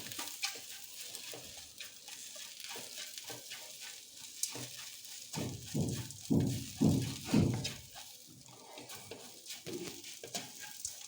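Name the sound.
okra frying with spice masala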